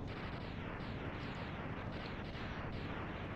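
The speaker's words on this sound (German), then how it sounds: "Jetzt habe ich keine Lust mehr und schicke ihm einfach eine letzte Rakete rein." Rocket fire striking a boss in the Mega Man X video game, heard as a dense, continuous rumbling barrage of explosive bursts that stays loud and steady throughout, with no voices.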